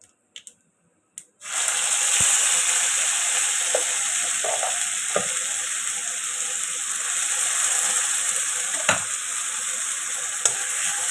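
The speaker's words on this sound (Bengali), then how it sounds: "আর যে পেস্ট করা আছে পেস্টগুলো আমি দিয়ে এটা কষাবো" A spice paste hits hot oil after a tempering of cumin seeds, bursting into a loud, continuous close sizzle after a few brief clicks, with occasional stirring scrapes.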